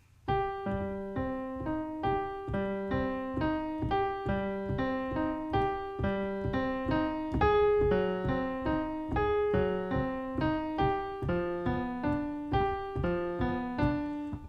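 Slow, even piano arpeggio: single notes rising and falling one after another, each ringing briefly, played alone at a steady unhurried tempo.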